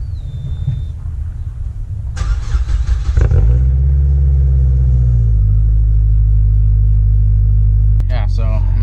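A car engine with a straight-piped exhaust that has just been welded up starts and idles loudly, with a deep steady rumble and a brief sharp rev near the end.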